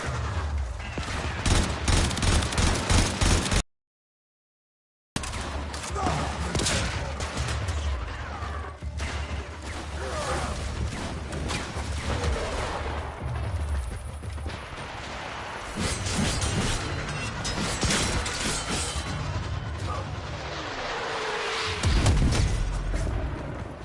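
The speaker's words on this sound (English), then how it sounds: "Gotta worry for these sentry guns that pop up everywhere." Sentry guns in Warframe firing rapid continuous bursts with booming impacts and mechanical clatter, loud and dense throughout apart from one brief total dropout near the start.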